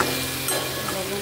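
Potatoes sizzle in a hot pan as they are stirred, a steady close crackle with soft scraping, heard alone and briefly.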